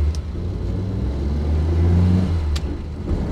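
A Reliant Supervan 3, a three-wheeled plastic van, is driven along a road with its engine revving: a steady, close mechanical drone that swells and settles in pitch, with one brief clunk near the end.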